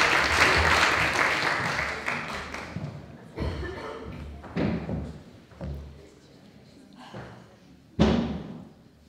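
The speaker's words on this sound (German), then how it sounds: "Einen herzlichen Applaus." Audience at a 2018 Hamburg talk gives warm applause welcoming a speaker, loud clapping that fades within a few seconds, followed by scattered thumps and knocks as the stage is set.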